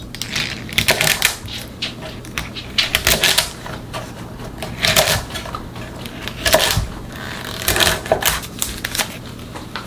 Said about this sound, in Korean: 끝부분을 자르고요. 먹기 좋은 크기로 한 4 내지 5cm 정도로 잘라주세요.